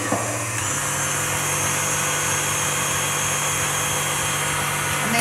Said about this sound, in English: we're going to pop this one back on so that we can mix the mascarpone cream cheese and the egg yolk mixture together